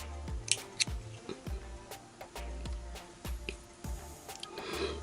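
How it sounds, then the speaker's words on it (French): Scissors snip through crochet yarn during work on a beginner's relief-stitch scarf, a series of short, sharp clicks spaced roughly every half second, close and fairly quiet with no talking. "Alors, je coupe le fil."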